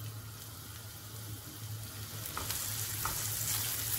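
Onions tossed into hot oil with cumin seeds sizzle in a steady frying hiss, with soft stirring clinks and occasional louder crackles.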